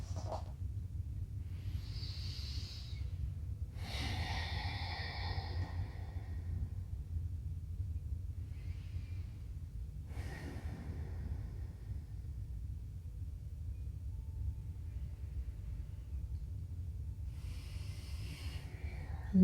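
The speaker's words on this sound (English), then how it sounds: "So we take some big inhales and exhales here, breathing all the way in and all the way out" Slow, deep breaths during a yoga session, several long hissing inhales and exhales spaced a few seconds apart, close and fairly soft over a low steady rumble.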